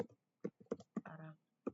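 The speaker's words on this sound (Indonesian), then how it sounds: "Kita klik, lalu kita mengetik judulnya." Clicks and keystrokes on a computer keyboard come in short separate bursts, followed by a brief run of quick typing, close and clear with no voice over them.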